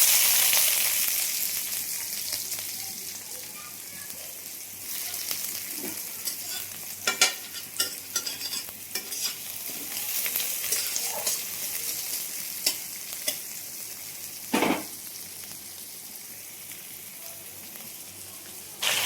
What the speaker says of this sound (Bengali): এদিকে মাছ ভাজতে দিয়ে দিয়েছি